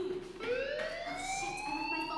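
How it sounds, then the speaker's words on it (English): Fire alarm in the video game Life Is Strange, a rising electronic wail that sweeps upward and holds, moderately loud within the game's ambience. "do you hear that fire alarm? That means you should be outside."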